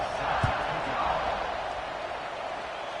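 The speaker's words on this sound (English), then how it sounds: "this crowd is buzzing after that last score" A stadium crowd in the College Football 26 video game keeps up a steady, distant roar and buzz that stays at a constant level, with a voice speaking over it.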